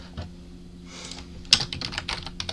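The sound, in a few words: typing code on a computer keyboard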